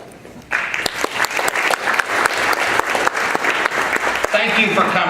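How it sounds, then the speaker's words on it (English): Audience applause at a conference opening keynote, starting abruptly and holding steady for several seconds as a loud, dense wash of clapping with sharper individual claps and some crowd noise. "My staff needs to give you a round of applause"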